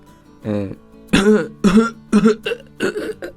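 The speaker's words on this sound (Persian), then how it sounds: "چقدر مصنوعی وسط حرف زدنش سرفه میکنه" A series of sharp, deliberately fake-sounding coughs in mid-speech, several bursts in close succession, loud and close, following a short voiced sound.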